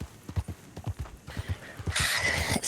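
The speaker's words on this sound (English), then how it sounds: "It is very nice to have a horse." Horse hooves clip-clopping in the western roleplay video game GoldrushRP, a steady near walking rhythm of hoof clops, joined near the end by a brighter hissing wash over the continuing steps.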